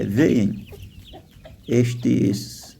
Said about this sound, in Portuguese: alimentando esses frangos e eles hoje estão muito animados